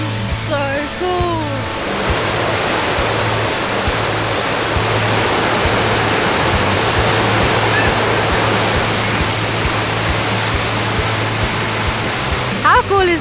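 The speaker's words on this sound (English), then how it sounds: "You can go surfing in a river in the middle of the city." Water rushes steadily through a standing river surfing wave in a German city river, a loud continuous churning roar that fills the whole span, with brief voices near the start and end.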